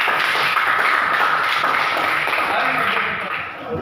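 A school class claps hands together before a presentation on the COVID-19 virus, a dense burst of clapping that fades toward the end, with voices mixed in.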